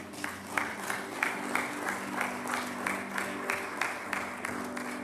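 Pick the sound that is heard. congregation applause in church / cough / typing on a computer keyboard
congregation applause in church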